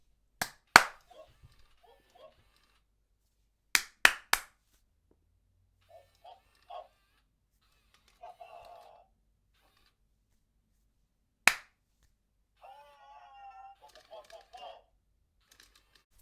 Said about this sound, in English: So I'll try clapping.